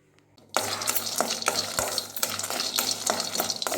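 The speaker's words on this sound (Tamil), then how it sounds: "எல்லாத்தையும் இப்படி ஒன்றுன்னா வறுத்துக்கணுங்க" Almonds, pistachios and other nuts dry-roast together in a pan for protein laddus. After a quiet start comes a busy, steady rustle and scrape of stirring, close and continuous.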